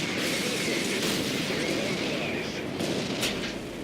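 Tank gunfire in World of Tanks during a battle with a Caernarvon MkII: dense, continuous rumbling booms and crackling shots merge into a loud, sustained barrage, with a sharper report near the end.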